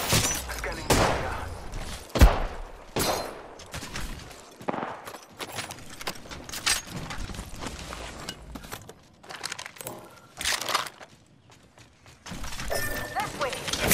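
Gunfire in a video game, bursts of shots and sharp cracks in irregular clusters with quieter gaps, loud and close, mixed with other game sounds.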